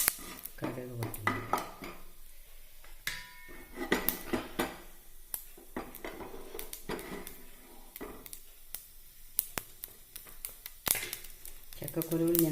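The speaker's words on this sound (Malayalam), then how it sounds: "കടുക് പൊട്ടുന്നു." Mustard seeds popping in hot oil in an unwashed pan while a Kerala jackfruit-seed snack is made: irregular sharp crackles and pops scattered throughout, with a voice talking over them.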